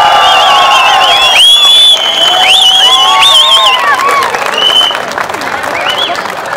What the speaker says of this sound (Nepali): तपाईहरु सबैले ताली बजाइदिनु होला